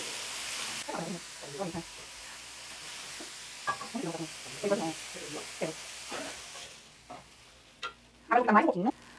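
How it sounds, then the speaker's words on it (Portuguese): Quiet, soft sizzling of chicken frying in a pan, with intermittent scraping and stirring clatter and a louder burst of crackle near the end. "Agora eu vou fritar mais um pouquinho"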